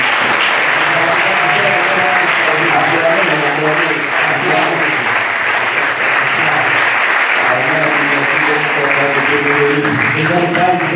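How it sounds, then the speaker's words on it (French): A church congregation applauds its pastor with sustained, loud clapping that fills the room for the whole stretch, while a voice carries on over it. "Je vais lui demander de se mettre debout, nous allons l'acclamer."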